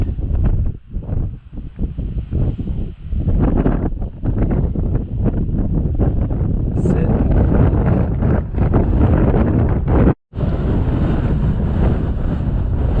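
Strong wind on the Tekapo Peninsula walkway, heard from a bench, roars and buffets the microphone in continuous gusts, with one brief lull near the end.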